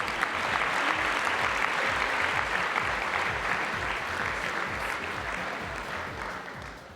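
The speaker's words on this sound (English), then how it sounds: "You can applaud if you wish." An audience at the F1 in Schools World Finals awards gala in Singapore claps steadily, a dense, sustained applause that holds strong then gradually fades toward the end.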